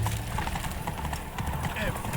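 Galloping horse hooves clop in a quick steady rhythm within The Witcher 3 game, under a short spoken line.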